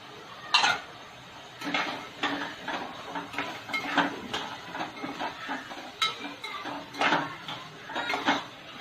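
Green peas being added to a pot of vegetable khichdi, heard as a series of close metallic clinks and scrapes of a spoon against the pot, repeating in irregular bursts.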